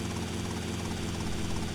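A helicopter in the video game GTA Vice City Remastered runs with a loud, continuous rotor chop and engine whine, close and steady throughout.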